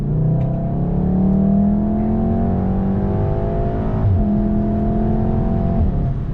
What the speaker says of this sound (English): See, it downshifted just like that